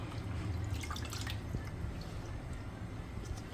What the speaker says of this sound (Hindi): ऐसे दो तीन पानियों से इस तरह से हम धो लेंगे तो हमारी मछली बहुत अच्छी साफ़ हो जाएगी।